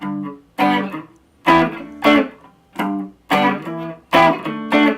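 Electric guitar chords are struck in short pairs, each ringing briefly and decaying, with a gritty, slightly distorted tone and gaps between strums.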